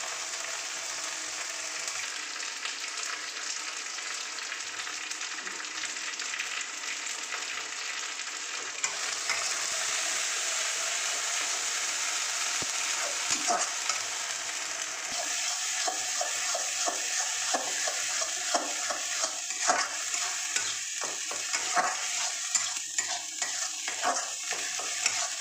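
Food sizzles steadily in hot mustard oil in a pan, close and continuous, while being stirred with frequent scraping and clinking strokes that grow busier partway through.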